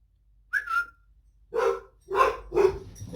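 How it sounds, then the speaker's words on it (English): A dog barks four times nearby, the first a short yelp, followed by three sharper barks in quick succession. "Stop barking and come to me."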